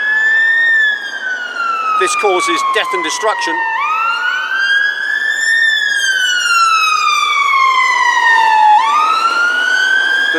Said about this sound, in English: As you can see, all the ambulances coming past